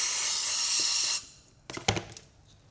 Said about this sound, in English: But look, that spray is nicely removing it.